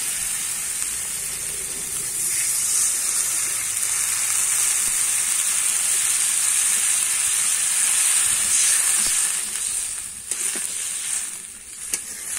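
Water poured into frying curry masala for a raw banana kofta curry, a loud sustained steamy hiss and sizzle that swells and then fades toward the end with a few clinks.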